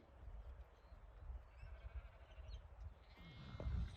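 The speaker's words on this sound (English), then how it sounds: "We've got a lot of the ewe lambs." Young ewe lambs bleat in a livestock shed, several thin calls scattered over a noisy, rumbling background, with a louder thump and stir near the end.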